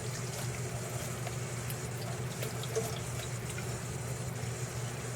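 Water runs steadily as a freshly tie-dyed towel is rinsed under a tap, a constant soft splashing wash with small drips and nothing else heard.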